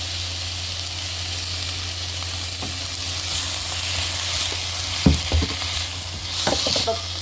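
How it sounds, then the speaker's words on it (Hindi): Chicken with cabbage and vegetables sizzles in a pan with light soy sauce, a steady frying hiss broken by a few sharp stirring clanks and scrapes near the end. "इन सबको अच्छी तरह से सौटे करेंगे। हल्की सोया सॉस, इसे डाल देंगे।"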